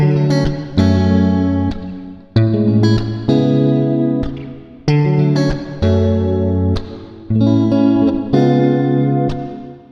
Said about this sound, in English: I started with a guitar riff, and that sounds like this